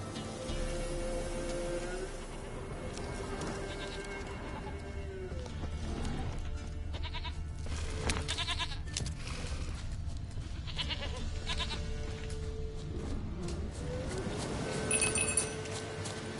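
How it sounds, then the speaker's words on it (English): Goat bleats in the fantasy role-playing game The Witcher 3: Wild Hunt, a few short calls scattered over a quiet ambient background with occasional clinks, moderately near and not loud. "Here, goat."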